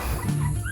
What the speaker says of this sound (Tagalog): Itong mga aso na to.